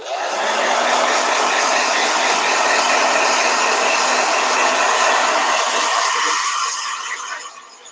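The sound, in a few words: blow dryer drying watercolor painting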